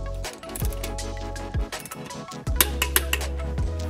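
A torque wrench tightening a motorcycle rear axle during a front sprocket install, heard up close as a few ratcheting clicks and metallic taps in short separate bursts over a low steady hum.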